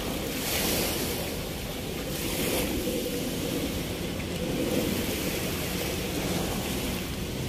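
Steady surf washes onto the dolomite sand shore of Manila Bay, a continuous broad rush of waves with wind buffeting the microphone throughout and no talk.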